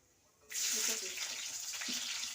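Nigella seeds and slit green chillies hit hot oil for tempering, bursting into a loud, sudden sizzle that then holds as a steady, close hiss with no voices.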